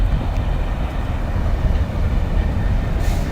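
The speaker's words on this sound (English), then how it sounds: "This is a freight train which is taking the platform 5 side" A Freightliner Class 66 freight train rumbles loudly and close through a station on the platform 5 side, a dense, continuous roar of wagons and wheels that fills the whole stretch.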